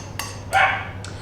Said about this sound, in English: I apologise about the barking.